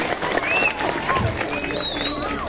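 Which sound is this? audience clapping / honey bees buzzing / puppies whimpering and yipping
audience clapping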